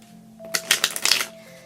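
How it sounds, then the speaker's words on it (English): A standard Rider-Waite tarot deck is shuffled by hand: a short burst of crisp, riffling card flutters lasting under a second, close and fairly loud over a quiet room with a faint steady hum. "we're going to go ahead and shuffle it"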